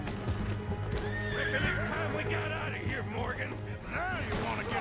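Horses neigh and whinny with clip-clopping hooves in the Western video game Red Dead Redemption 2, several loud whinnies rising over a busy game mix, with talk underneath.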